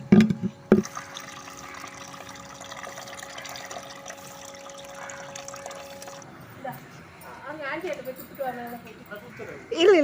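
Water runs steadily from a tap as it is collected to water garden plants, a continuous hissing flow that stops partway through, while someone talks over it and other voices follow.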